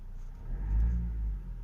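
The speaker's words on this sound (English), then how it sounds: "So now I'm revving the engine." A Tata Harrier SUV's engine rises from idle in a short rev, a deep low rumble swelling and holding before easing slightly, heard from inside the vehicle with no talking.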